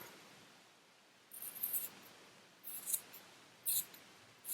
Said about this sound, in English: So now I take my scissors, working around the pom and shaping it